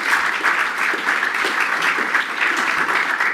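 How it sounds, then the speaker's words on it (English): Conference audience at an OpenStack networking talk applauds a live demo, a steady, fairly loud patter of many hands clapping throughout. "Big round of applause for the demo."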